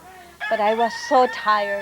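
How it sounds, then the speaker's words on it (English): A rooster crows outside a jail cell window, one loud drawn-out cock-a-doodle-doo close by with its rising and falling phrases, while a voice speaks quietly over it. "I could hear the roosters crowing."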